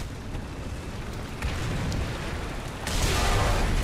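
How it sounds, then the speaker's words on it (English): Incoming artillery in War Thunder, a continuous rumbling blast texture that grows louder in steps, swelling into a heavier, brighter impact burst near the end, with no voices. "We're gonna back out of here though, because that artillery is coming."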